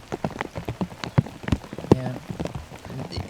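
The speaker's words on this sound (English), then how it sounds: "Again, in the pouring rain, it's so hard to give it a real firm, committed run" Pouring rain on a disc golf course during a tournament round, a steady patter of drops on surfaces with a few sharper knocks, close and continuous, with a brief voice spoken over it.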